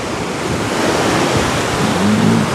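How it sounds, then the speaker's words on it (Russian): Sea waves break steadily at a beach in Anapa while wind buffets the microphone, a continuous loud wash of surf with gusty rumble and no voices. "тут у нас ветер, тут у нас брызги"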